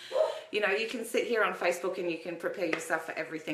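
Dogs in a room yip and whimper in short, high bursts that run under and between a person's steady talking, close by and fairly loud.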